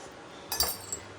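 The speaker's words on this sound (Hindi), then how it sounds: "चलिए अब करते हैं इसको मिक्स, तैयार।" A spoon clinks against a bowl while raita is stirred with yogurt and spices, giving a few faint, quick metallic taps close by.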